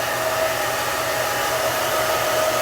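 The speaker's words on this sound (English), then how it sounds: "I'm cooling it with the cool shot from my hair dryer." A hair dryer on its cool shot setting blows steadily and close, a constant whirring rush of air with a faint low motor hum underneath.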